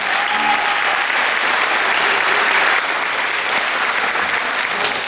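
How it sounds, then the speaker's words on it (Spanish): Dense, sustained applause from a concert audience at a jota school show, greeting a jota singer; loud, even clapping from many hands continues unbroken throughout. "Un aplauso para él, claro que sí."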